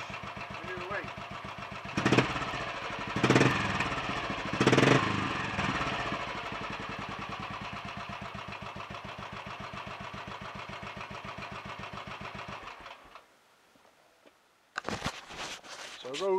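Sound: Royal Enfield 500 motorcycle engine kick-started and idling

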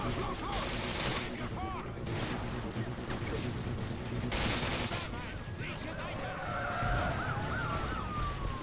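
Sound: gunfire through a window in Call of Duty Modern Warfare 2 (video game)

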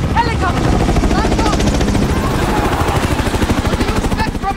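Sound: helicopter in Call of Duty Modern Warfare video game

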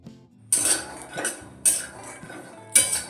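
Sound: dry-roasting peanuts in a pan

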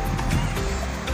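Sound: water fountain splashing at Mutrah corniche park

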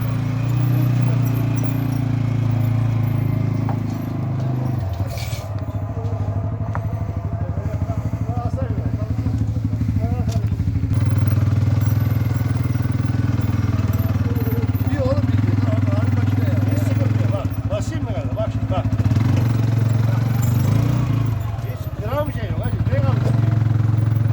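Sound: ATV engine accelerating while towing a trailer

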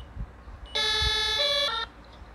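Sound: ambulance and fire truck siren in video game Emergency Hamburg

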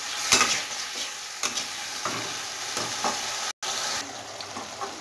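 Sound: sautéing spice masala with vegetable stems over medium heat

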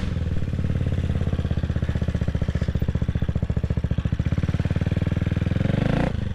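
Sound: motorcycle engine started and idling

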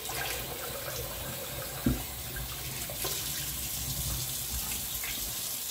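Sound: rinsing with cold tap water after shaving

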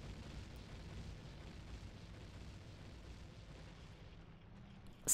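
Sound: bomb explosion in video game Zelda Ocarina of Time

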